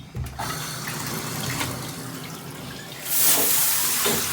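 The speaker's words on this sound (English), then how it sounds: "It's perfectly okay to take a hose and run it through the instrument just a little bit" Water from a hose rushes through a trombone in a continuous splashing flow, close by, swelling louder and brighter toward the end.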